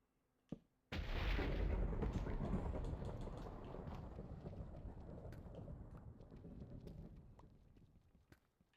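Thunder in Minecraft, heard underground: a sharp crack, then a long, loud rumbling roll that slowly fades over several seconds, with no talking.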